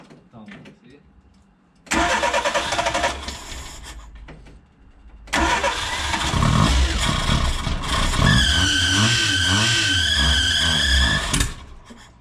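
A flooded car engine cranks and catches twice, then revs and roars loudly and unevenly close by before cutting out, with people talking over it.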